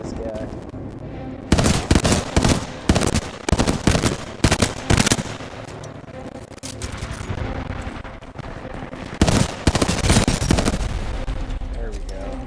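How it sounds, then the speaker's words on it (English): Burst gunfire in a video game, clusters of sharp rapid shots in several bursts with quieter stretches between, loud and close, with someone talking over parts of it. "3 burst shots into this guy."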